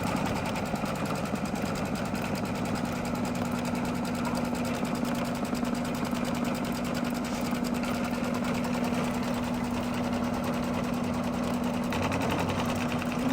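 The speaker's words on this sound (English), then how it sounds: "the next thing we're going to do is stitch our tack down stitch" An embroidery machine sews a tack-down stitch holding batting in place on a luggage tag, making a steady, rapid mechanical whirring and needle chatter that runs unbroken throughout.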